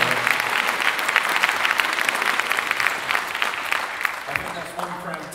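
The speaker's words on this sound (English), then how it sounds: "Can we get a round of applause for Wiley as well?" Crowd at a Stargate SG-1 comic con panel in Wales claps and cheers in a sustained, lively round of applause, fading slightly toward the end as a voice begins to speak.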